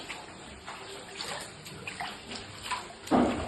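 Floodwater inside a flooded apartment after a storm in Chernivtsi, a close, continuous sloshing and splashing of water with scattered gurgles and a louder splash near the end, with no voices over it.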